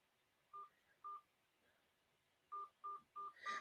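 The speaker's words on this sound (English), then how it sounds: "Please enter your access code followed by the pound or hash sign." Touch-tone keypad beeps entering an access code on a conference call line: two separate tones, a pause, then four quick tones in steady rhythm, fairly faint and clear with no talking.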